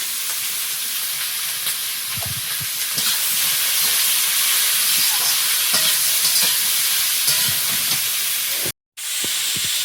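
Green chillies frying in a pan with a little salt and turmeric give a steady, close, broadband sizzle and hiss throughout, with scattered crackles and a brief dropout near the end.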